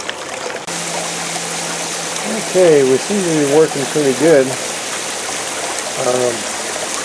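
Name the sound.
water flowing off a gold dredge sluice during cleanup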